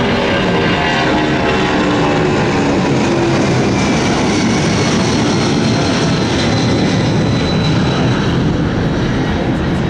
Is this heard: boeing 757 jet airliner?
yes